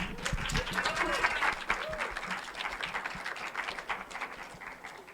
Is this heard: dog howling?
no